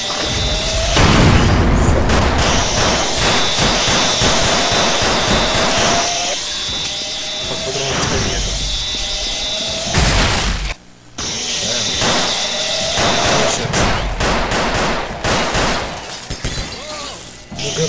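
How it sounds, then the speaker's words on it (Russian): Rapid gunfire from a crowbar wielded as a gun in the shooter Grezzo 3, dense bursts and booming shots running almost continuously with one brief gap, loud and close, with faint talk underneath. "я стреляю здесь из лома"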